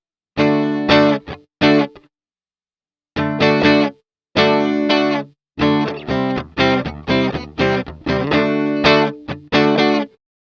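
Electric guitar played through a pedal simulating a 1957 Fender Tweed amp, with added distortion and budget vintage overdrive pedals, giving loud, saturated chords and short riffs in bursts separated by brief pauses.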